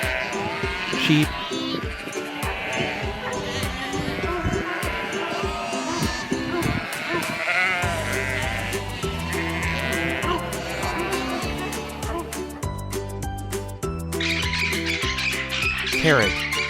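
Sheep bleat repeatedly over busy farmyard background noise, with the calls layered and continuous at moderate loudness.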